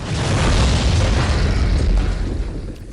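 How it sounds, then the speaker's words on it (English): A dynamite explosion booms loud and close, a sustained roaring blast that fills the whole clip with rumbling, crackling debris and no talk. "The explosive called dynamite."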